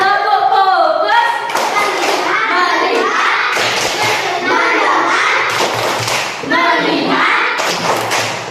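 Classroom 'tepuk fokus' focus clap led by a teacher, with children joining in rhythmic patterns of hand claps and thumps mixed with chanted voices, loud and close throughout.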